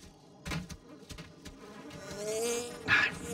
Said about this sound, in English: The mosquitoes out here on this routine recon are the size of vampire bats